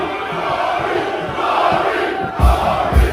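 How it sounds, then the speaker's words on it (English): A lively crowd roars and shouts in a golf 19th hole bar, a loud, continuous wash of voices with a couple of louder thumping bursts near the end. "What a crowd."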